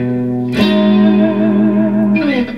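Clean-toned Fender Stratocaster electric guitar through a compressor with very little gain, volume slightly down and tone controls full; a sustained chord rings out, is re-struck, and holds steadily with a long, smooth decay, alone and fairly loud.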